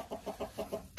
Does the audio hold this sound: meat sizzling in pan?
no